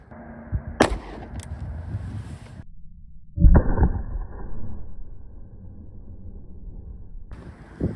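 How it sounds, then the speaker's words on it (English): A single sharp gunshot from a .40 S&W pistol firing a 180 grain Federal law enforcement Hi-Shok round, a loud close crack with a brief outdoor tail, set against steady wind noise. "Now these are 180 grain federal law enforcement rounds."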